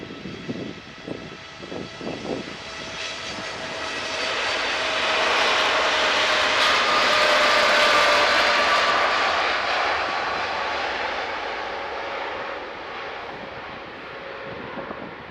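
Swiss airliner landing at Manchester Airport, a loud jet roar swelling to a peak and slowly fading as it passes, heard alone.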